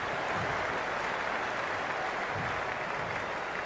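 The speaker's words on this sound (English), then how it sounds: "The crowd is electric right now." Stadium crowd roaring steadily in the Cricket 26 video game, a dense continuous wash of cheering and applause at moderate volume with no voices standing out.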